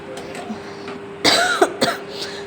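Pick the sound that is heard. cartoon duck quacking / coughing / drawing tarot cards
coughing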